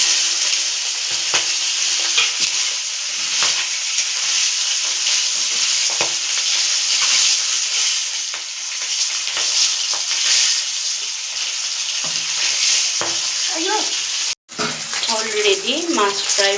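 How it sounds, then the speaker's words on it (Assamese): Fish sizzles steadily in hot oil in a pan, a loud, continuous frying hiss broken by scraping stirring strokes, with a brief cutout near the end and a voice speaking over the final seconds. "অলৰেডি মাছ ফ্ৰাই হৈ গৈছে"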